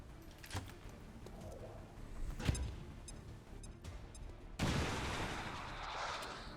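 A grenade explosion in XCOM 2 Long War, with a few sharp bangs early, then a sudden broad blast that rolls on and slowly fades, loud against a quiet background.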